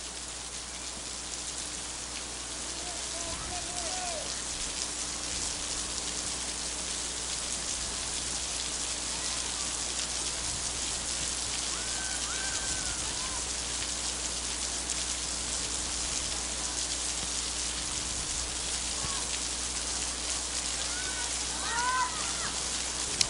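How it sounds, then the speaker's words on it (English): Driving rain falls steadily at an outdoor soccer stadium during a women's college match, a constant broad hiss with faint distant calls now and then. "As you can see, the driving rain here at Spartan Stadium."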